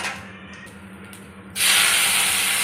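Mustard seeds drop into hot oil for a Sunday mutton kuzhambu and burst into a loud, sustained sizzling hiss after a quiet moment of low background hum.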